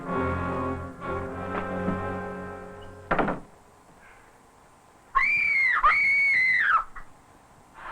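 A person screams in an old film, two long, loud, high wailing shrieks standing alone after a stretch of music and a thud.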